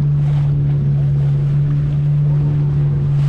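A boat on a dolphin-watching ride off Goa drives across the sea, its engine giving a loud, constant low drone with wind and water rushing continuously alongside.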